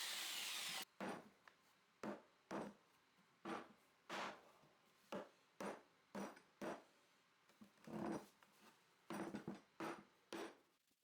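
Repeated short bursts of a jigsaw cutting into a 2x4 wood board, a dozen or so quick rasping strokes separated by brief pauses, close and fairly loud.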